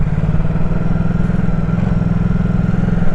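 A 2019 Ducati Supersport 950 motorcycle engine runs close by with a steady, throbbing low rumble and a continuous mechanical clatter, loud throughout with no voices.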